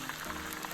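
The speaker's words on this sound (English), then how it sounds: "listen to that sizzle" Fish head pieces frying in avocado oil give off a faint, even crackling sizzle for a brief moment, with no talking.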